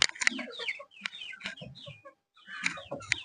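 Several chickens cluck close by in short, uneven bursts, with a brief quiet gap before the clucking picks up again.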